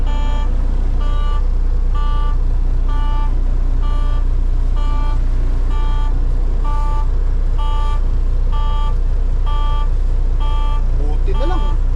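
A Volvo truck engine drones loud and close at a steady pitch, with a regular reversing beep sounding about once a second over the rumble.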